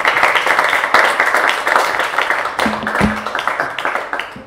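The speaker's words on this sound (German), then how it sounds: "Without further ado, einen großen Applaus" Audience clapping at an evening lecture event on belief in God, loud applause that is strongest at first, then gradually thins and fades, with a brief voice near the end.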